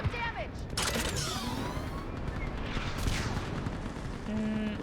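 A mounted gun fires in the video game Mass Effect 3, bursts of heavy shots and mechanical clatter over battle noise, with voices speaking around it.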